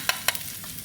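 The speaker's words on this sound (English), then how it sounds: "Ginger and garlic right down in there. Saute that up real quick." Ginger and garlic sautéing in a wok over high heat: a soft steady hiss broken by two quick sharp scrapes of a spatula.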